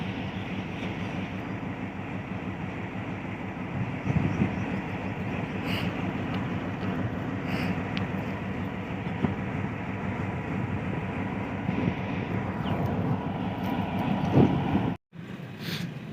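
Train passing Sanawan railway level crossing, hauled by diesel locomotive HPU 28079: a steady, loud rumble of wheels and engine throughout, ending abruptly near the end.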